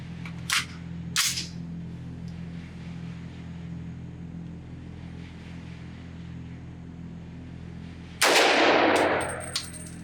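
Suppressed gunshots from a lightweight B&T SRBS762Ti-DM titanium .30 cal rifle suppressor at an outdoor range, firing super and subsonic ammunition: two sharp, muffled reports early on, then a louder, longer blast near the end over steady background hum.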